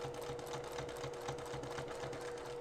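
A sewing machine stitches quilt binding in a quick, even, mechanical patter that runs steadily at moderate volume, with no talking.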